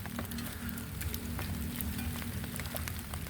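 Steady rain falls during home cooking of chicken tinola, a dense continuous patter that also suggests a simmering pot, with no voices over it.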